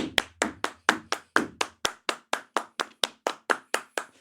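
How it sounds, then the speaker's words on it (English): Hands clap in a steady, even rhythm, about seventeen sharp claps over four seconds, close and crisp with no voices over them. "Everybody clap your hands."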